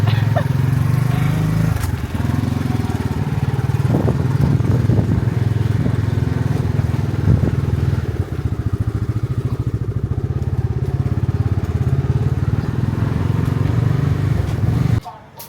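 A motorcycle engine drones steadily up close while riding in Thailand, with some rattling and bumps, then cuts off abruptly at the end.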